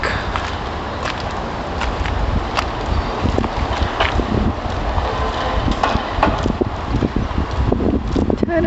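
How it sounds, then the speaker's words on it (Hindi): Cool wind blows outdoors in Saudi Arabia, a loud, steady rush buffeting the microphone with gusty swells throughout. "ठंडी हवा चल रही है।"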